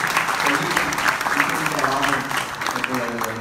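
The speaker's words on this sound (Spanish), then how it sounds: "Un aplauso a Patti." An audience at a Red Cross national fundraising launch event in Progreso gives a round of applause. Dense, continuous clapping runs throughout, with voices talking faintly underneath.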